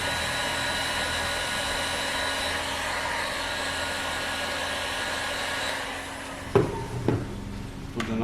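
A heat gun shrinks heat shrink tubing over a wire connection while replacing an inverter's current transformer. Its steady, close blower whir runs for about six seconds, then drops away into a few sharp handling clunks.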